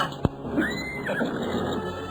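A horse whinnies in a radio drama, one rising and falling neigh heard at middle distance over a steady background hiss, after a single sharp click.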